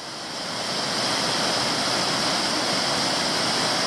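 D'Alton Falls pours about 15 metres into a shadowy gorge in summer, a loud, steady, broadband roar of falling water that swells in over the first second and then holds.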